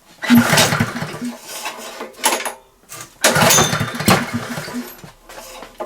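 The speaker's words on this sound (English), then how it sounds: "choke on, fuel on, ignition on, and let's give it a pull" A petrol generator being pull-started: a few loud cord pulls with the engine coughing and briefly firing before dying away, close by, with short gaps between attempts and no speech.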